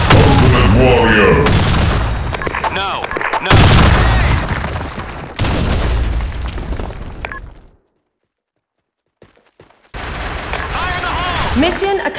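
Grenade blasts and gunfire in the shooter game Blackshot: several heavy booms and bursts of shots in quick succession, loud and close, then a sudden dead silence before the fighting noise returns.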